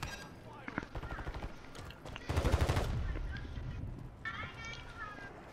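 Bursts of gunfire in Call of Duty Warzone 3 crack and rattle at a moderate distance, with one heavier burst midway, while voices talk over the action.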